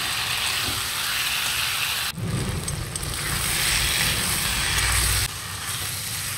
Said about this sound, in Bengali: ভেজে রাখা পটল দিয়ে দেব আর সেদ্ধ করা আলুটা দিয়ে মশলাকে ভালো করে কষিয়ে নেব।